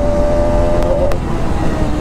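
A Bajaj Pulsar RS 200 motorcycle engine drones loudly at high revs, holding a steady strained pitch with a couple of brief stutters like hitting the rev limiter.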